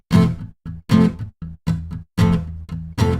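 Short, choppy power chords strummed on guitar, each one cut off sharply, leaving gaps of silence between the staccato hits.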